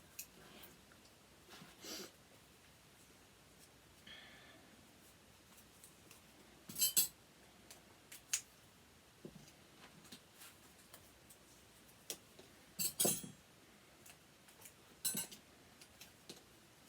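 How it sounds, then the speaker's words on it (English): Metal spoons picked up and set down while sticky labels are stuck on them, producing sparse, faint clinks and taps scattered across a quiet room with long gaps between them. "I'm going to stick a sticky label onto a spoon"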